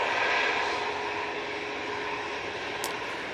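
Jet engines of an Airbus A350 at close range during a rejected takeoff, a steady loud broadband roar and whine holding evenly throughout.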